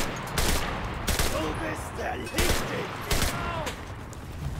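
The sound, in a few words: machine gun fire in the video game Enlisted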